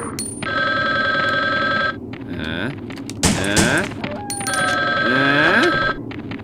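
An old-style telephone bell rings in the survival horror game Resident Evil Survivor, two bursts of ringing separated by brief game sounds and a sharp noise in between.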